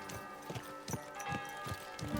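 Horse hooves clip-clop at a steady walking rhythm in Kingdom Come Deliverance 2, about five evenly spaced, close, distinct hoofbeats over a low game soundscape.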